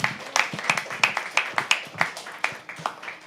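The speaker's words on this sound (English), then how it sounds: "Can we please have an applause for him?" Sparse, distinct hand claps from a small audience at a live poetry open mic, individual claps ringing out in an uneven rhythm rather than a full ovation.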